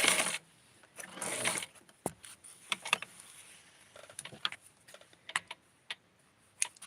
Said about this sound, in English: So I am going to sew and gather.